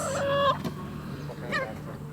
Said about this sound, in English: help me wrangle the geese